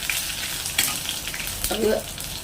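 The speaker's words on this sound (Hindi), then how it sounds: "मिर्ची भी तल करके तैयार हो गई है, एक साइड हो गई, अब दूसरी साइड पलट लेते हैं" Green chillies frying in hot oil, a loud close sizzle with a brief scrape as they are pressed and turned.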